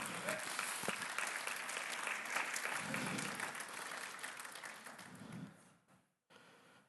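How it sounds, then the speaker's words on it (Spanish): A church congregation gives loud, dense applause that holds steady, then fades away near the end, breaking off briefly into silence before a faint room tone returns. "Denle un fuerte aplauso al Señor"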